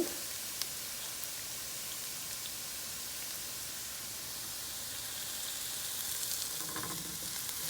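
Fenugreek leaves sizzle in a pan for a potato and fenugreek curry, a steady close frying hiss with a slight rise and a few stirring scrapes near the end.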